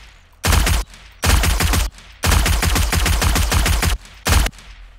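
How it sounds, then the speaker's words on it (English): Bursts of submachine gun automatic fire in 7 Days to Die: four loud, close rapid-fire volleys of varying length, separated by short quiet gaps, with no talking. "What this is basically your typical submachine gun"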